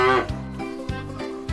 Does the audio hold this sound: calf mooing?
yes